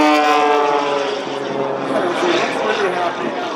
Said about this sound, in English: He's giving us a little airplane celebration as he whips it around there